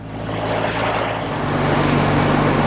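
A 1964 Triumph Bonneville T120 motorcycle runs close by with a steady, throaty engine drone that swells slightly as it shifts down a gear, loud and continuous without speech.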